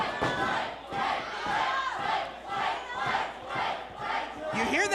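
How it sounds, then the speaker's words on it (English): Crowd at an independent wrestling show chanting a wrestler's name in a loud rhythmic repeating pattern, swelling roughly every second, with cheering underneath. "I think they want Blake. Look, Blizzy has made an impression on this crowd"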